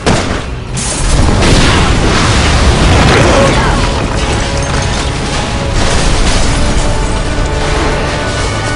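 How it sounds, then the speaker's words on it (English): A gas explosion in the video game Resident Evil 6 produces a loud, sustained roaring blast that fills the whole clip with dense rumbling debris noise and no pauses. "Shoot the gas! We can blow these things to kingdom come!"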